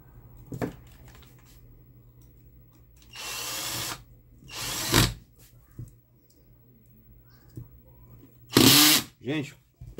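A power drill drives screws into a Mallory fan during reassembly, with several separate loud whirring bursts of a second or so each, broken by quieter handling noises and a steady low hum.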